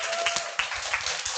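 Applause from an audience at a company group meeting, dense broadband clapping that holds steady and fairly loud throughout, with no clear voices over it.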